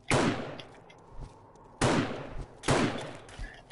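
Three loud gunshots in the video game 7 Days to Die, fired in a desert, each a sharp crack with a trailing echo, spaced unevenly about a second apart.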